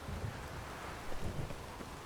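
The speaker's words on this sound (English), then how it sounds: "the hour of meditation hasn't stopped the storm." Steady rain with low rumbling thunder fills a thunderstorm scene in the video game The Witcher 3, a continuous, fairly loud wash of rainfall with a couple of deeper thunder swells and no talking.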